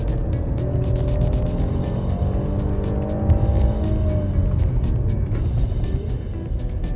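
A Holden Commodore RS-V accelerates out of corners, engine note rising steadily through the gears from inside the cabin, a loud continuous drone with a mild lift in pitch and some road noise underneath.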